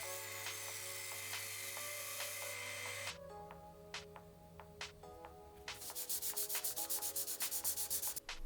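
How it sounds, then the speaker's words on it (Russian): A drill spins a brass washer against metal with harsh grinding and rubbing, broken by brief clicks, then a steady pulsing scrape in rapid repeated strokes. "при помощи дрели более точно подгоняю внешний диаметр"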